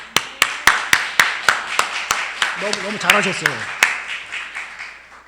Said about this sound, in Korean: 제가 여러분들을 위해서 박수를 드리고 싶습니다